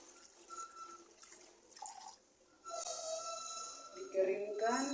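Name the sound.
hands being rinsed under running tap water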